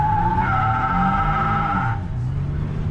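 A car's tires squeal steadily on a wet road during a burnout, loud and close, with the engine droning underneath, then the squeal cuts off and the engine rumbles on.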